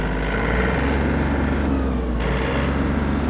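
A Yanmar RS-27 mini tractor engine running steadily at minimum driving speed in low gear, a continuous loud, even rumble with a low throbbing pulse and no change in pitch throughout.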